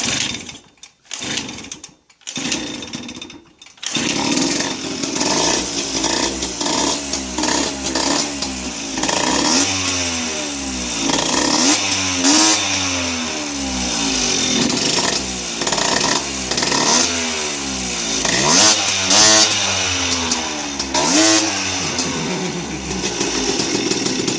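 A pull-start Hobbit moped engine is yanked a few times with sharp rasping tugs, then catches and runs close and loud: a buzzing two-stroke drone that revs up and down repeatedly and keeps running steadily.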